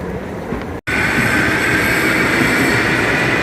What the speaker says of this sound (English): So we're going to wait on the A train here.